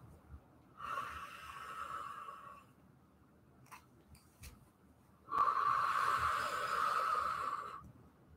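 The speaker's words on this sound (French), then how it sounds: "Voilà, soufflez bien." Two long, steady exhalations during a hip-stretching exercise, close and fairly loud, each lasting about two seconds, separated by a quiet pause with a few faint clicks.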